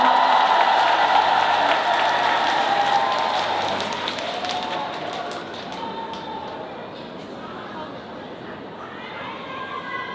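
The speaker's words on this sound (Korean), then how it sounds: "박수 주세요." Concert audience at an outdoor trot performance applauds, a thick crowd clapping that gradually thins and fades, with scattered chatter and some voices mixed in.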